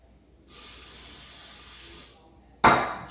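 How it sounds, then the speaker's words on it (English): Olive oil sprayed onto venison from a South Texas buck in one steady hiss of about a second and a half, followed by a sharp knock. "get a little olive oil, spray it down"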